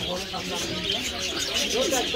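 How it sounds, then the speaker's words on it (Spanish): Birds cooing and chirping at a market stall that sells birds for release, steady under busy crowd noise and voices talking. "Aquí tienes puestos donde te venden pájaros para que tú los pongas en libertad."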